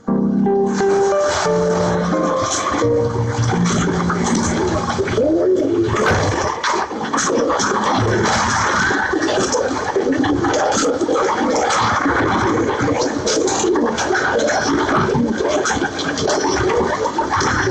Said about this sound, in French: le colombier modèle d'un célèbre colombophile qui élève des pigeons de grande classe